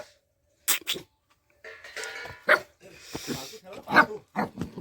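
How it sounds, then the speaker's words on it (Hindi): A pet dog in a hillside village in Dob, Uttarakhand barks in a few sharp bursts at close range, with people talking nearby between and over the barks. "ये शेरू भौंक रहा है"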